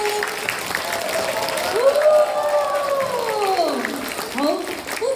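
An audience at a kindergarten end-of-term ceremony bursts into sustained applause, with a long rising-and-falling cheer or whoop riding over the clapping.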